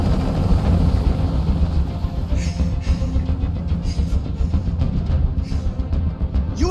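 Helicopter hovering overhead in Detroit: Become Human, a loud continuous rotor thump and engine rumble filling the low end, steady throughout without talk.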